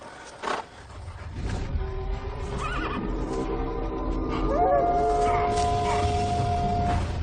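A horse whinnies loudly in a film scene, a long rising and falling neigh over a low rumbling background, with a shorter whinny earlier and faint hoof movement.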